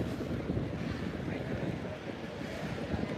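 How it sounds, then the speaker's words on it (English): Steady wind buffeting a microphone over a low ocean roar at Coney Island, a continuous broadband rumble with no breaks and no voices. "You can definitely hear the sound of the ocean"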